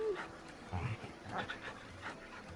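A dog in the Final Fantasy XVI video game pants and gives a few soft whimpers, fairly faint and close, with brief sounds between the breaths and no talking.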